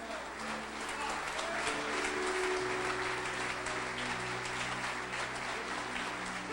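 Church congregation clapping during a men's worship service, a faint, continuous rush of many hands with a low hum and some indistinct voices or music underneath.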